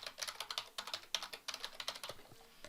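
Fast, even tapping on a computer keyboard, a quick run of light, close clicks with short pauses, quiet and alone.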